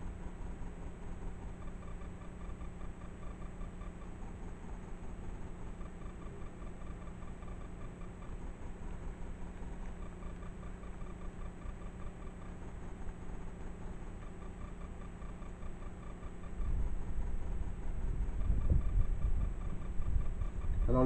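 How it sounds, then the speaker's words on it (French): Wind blowing around a château during a visit, a steady low rumble that fills the background and swells louder in a gust near the end, with no voices. "Alors le bruit que vous entendez, c'est bien sûr le vent."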